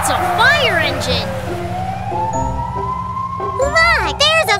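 A cartoon fire engine siren wails with a rising and falling pitch, loud and close, while animated voices talk and sing over it.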